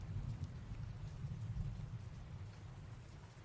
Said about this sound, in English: the rain comes down a little bit harder